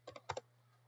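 Two quick pairs of keystrokes tapped on a computer keyboard while coding a web page, crisp and close, then quiet with a steady low hum underneath.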